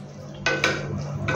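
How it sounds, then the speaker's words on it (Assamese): Stirring masala of coriander powder, red chilli powder and garam masala in a pan: close, dry scraping strokes in a few loud bursts with a faint low hum beneath, no talking. "দি গোটেইখিনি ভালদৰে লৰাই দিছোঁ"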